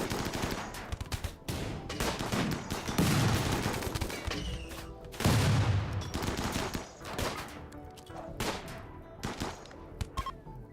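A video game fight with rapid bursts of automatic gunfire as an enemy is shot. The loud, close volleys repeat in dense clusters with short pauses between them.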